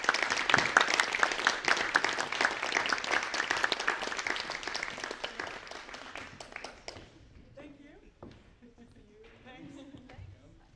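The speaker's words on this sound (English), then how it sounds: "So please welcome them all with a warm applause." An audience at a debate on journalism and academia applauds as panel guests are welcomed. Dense clapping dies away after about seven seconds, then a voice speaks.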